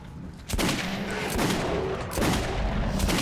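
Gunshots ring out in a tunnel firefight in Metro 2033 Redux, several loud sharp cracks, one at the start and another near the end, over steady background din without talk.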